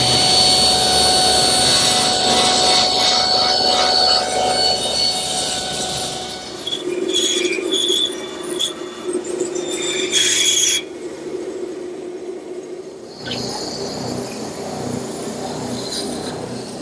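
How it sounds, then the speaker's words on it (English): A table saw set to 45 degrees cuts miters in wood guided by a miter gauge, a loud sustained motor whine and blade roar that dips during the cut, cuts off abruptly, then spins up again. "So I've simply set my table saw at 45 degrees, and I'll use my miter gauge to guide it through."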